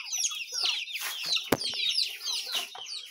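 Several farm chickens cluck and chatter close by in quick overlapping bursts, with one sharp clack partway through.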